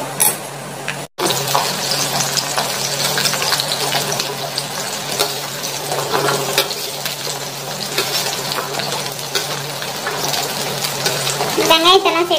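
Small sambar onions sauté in sesame oil with fenugreek seeds in a pan, giving a steady, close sizzle and crackle. Someone speaks over it.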